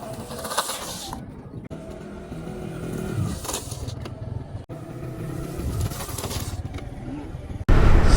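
A 125cc motorcycle, a Honda SP 125 FI or TVS Raider 125, rides at speed during a brake test, its engine whining and rising under wind noise, with faint voices and a sharp jolt at the end.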